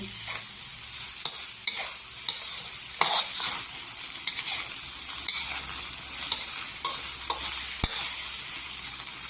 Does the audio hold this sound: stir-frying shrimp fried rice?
yes